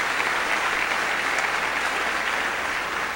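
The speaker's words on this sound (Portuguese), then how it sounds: "aplaudindo ao Senhor pela sua vida" Youth congress audience applauding a pastor at a church event, dense continuous clapping from a large crowd, loud and unbroken throughout.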